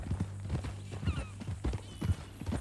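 Horse hooves clip-clopping at a walk in the Red Dead Redemption 2 video game, steady rhythmic thuds close by on dirt, with brief bits of game voices in the background.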